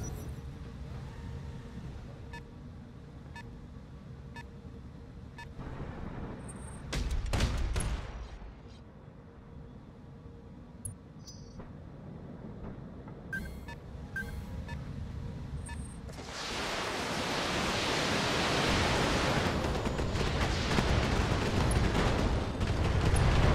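Mech weapons firing in the BattleTech video game on a desert map, starting with sparse distant thuds and a sharp blast, then building into a long, loud roaring barrage of sustained fire.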